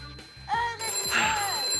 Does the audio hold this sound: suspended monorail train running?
no